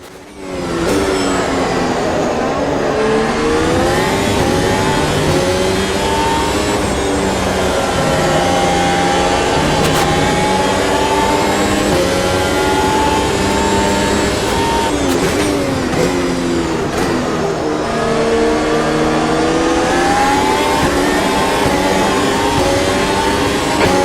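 Race car engine in the sim racing game Automobilista 2 at Kyalami, droning loud and steady throughout with rising and falling pitch sweeps as it accelerates through gears and lifts for corners.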